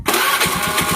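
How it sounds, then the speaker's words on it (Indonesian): A Honda Beat carbureted scooter with a weak-battery problem cranks and catches, then runs at a fast, pulsing idle. The engine is loud and close, with no speech. "Coba motor kita nyalakan"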